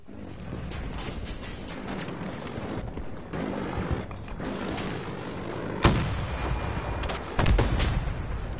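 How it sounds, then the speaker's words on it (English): Battlefield 2042 combat din: dense, continuous gunfire and booming explosions roll together, with a sharp blast near the middle and another heavy burst near the end, loud and busy throughout without a clear break. "Battlefield explosion!"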